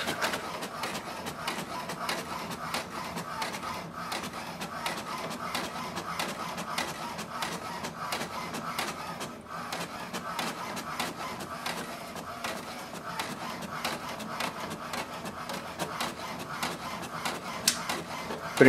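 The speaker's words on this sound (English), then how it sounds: "Printer is working." An HP DeskJet 2800e inkjet printer prints a page: a steady, fairly quiet mechanical whir and rattle runs throughout, with faint rhythmic clicks from the paper feed, heard close with no talking.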